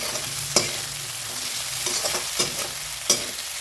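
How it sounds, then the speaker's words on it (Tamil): Onion and chicken sautéing in oil in a pan for street-style chicken rice, a steady close sizzle broken by several sharp scrapes and taps of a stirring spoon against the pan. "இப்போ சிக்கனே சேர்த்ததோட ஆனியன் சிக்கன் எல்லாத்தையும் வதைக்கலாம்"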